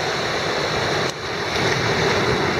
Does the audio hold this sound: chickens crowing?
no